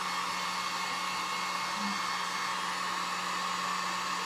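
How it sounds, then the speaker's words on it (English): A Harbor Freight heat gun runs nearby with a constant, steady whooshing blow and fan hum, unchanging and uninterrupted from start to end, with no voices. "I'm just using my trusty heat gun from Harbor Freight"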